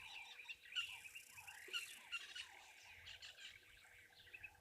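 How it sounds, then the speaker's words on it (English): Retz's helmetshrikes give faint, distant chirping calls at a waterhole, heard as several short high notes over a low ambient background. Other birds mix in quietly. "There's Retz's helmet shrikes calling as well. That little call there."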